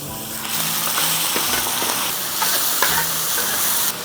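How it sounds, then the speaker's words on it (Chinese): Beef mince stir-fries in plenty of hot oil in a wok, producing a loud, continuous sizzle and hiss with scattered crackles and scraping, up close and without talk. "我们把牛肉末倒下去给煸香一下。"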